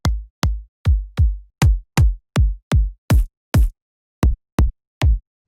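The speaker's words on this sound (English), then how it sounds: "We have 15 kicks in the pack and they sound like this." A run of twelve punchy kick drum samples from an STMPD-style dance sample pack, each a loud, deep thump with a short decay, played one after another at a steady pace with a brief gap near the end.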